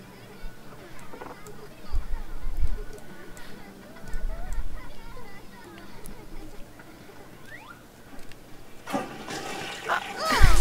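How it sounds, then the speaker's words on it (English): A toilet in The Sims 3 video game overflows with gurgling, splashing water, quiet at first and then a loud rushing flush near the end. "she's about to use the toilet, so it should overflow on her, right?"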